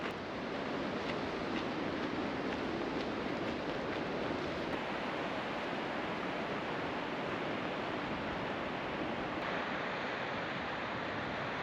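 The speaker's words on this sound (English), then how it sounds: "we can already hear the sound of the water rushing over the falls" Water from Yellowstone's Lower Falls roars as a steady, dense wash of broadband noise, unbroken and fairly loud throughout, with no voices over it.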